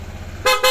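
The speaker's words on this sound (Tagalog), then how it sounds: "Ano busina yun? PIAA." Two short loud blasts of a PIAA aftermarket horn fitted to a motor scooter, close by and bright, after a low idling rumble.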